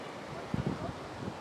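Strong wind buffets the microphone at a beach in Phan Rí Cửa, Bình Thuận, around 5 pm, a steady rushing roar with a few louder gusts, while a voice briefly speaks over it.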